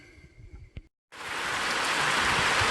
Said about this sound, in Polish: Dobra, idzie burza.